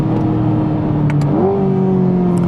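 A 2025 Corvette C8 Z06 V8 revs hard on track at Circuit Zolder, a loud, steady, close engine drone whose pitch climbs sharply partway through and then holds high.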